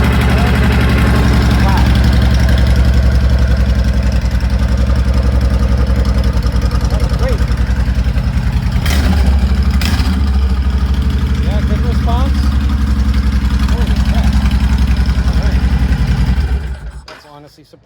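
A Honda Fury 1300 motorcycle engine, fresh from a fuel pump replacement, cranks and settles into a steady, loud, close idle that runs without a break before cutting off at the end.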